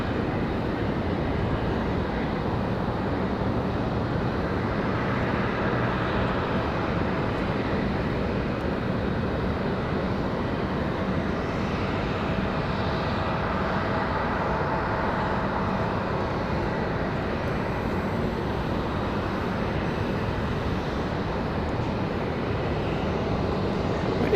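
Delta Airbus A319 jet arriving at Raleigh-Durham airport, a steady broadband engine roar that stays loud and constant throughout with no clear rise or fade, and no talk.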